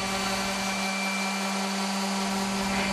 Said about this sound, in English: Hold the palm sander firmly and apply a slight downward force as you move it over the entire surface of the material.